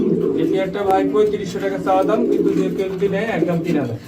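Large pigeons coo in low, throaty rolls close by at a pigeon farm, with a person talking over them throughout.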